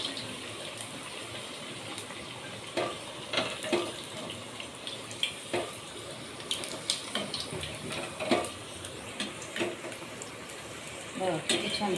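Puris deep frying in oil give a steady sizzling bubble, broken by irregular clinks and splashes as they are handled in the pan. No voices.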